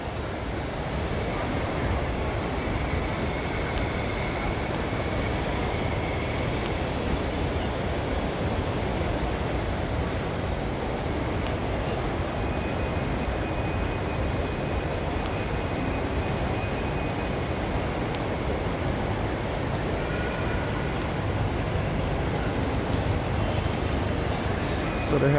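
Busy terminal ambience at Suvarnabhumi International Airport in Bangkok, a broad steady rumble of crowd noise and hall echo with distant chatter, unbroken for about twenty-five seconds.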